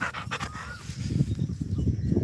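A dog panting hard and close: quick, rhythmic, breathy puffs that continue for a couple of seconds with no one speaking.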